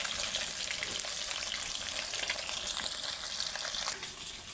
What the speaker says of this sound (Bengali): এখনও কড়াতে ভাজা হচ্ছে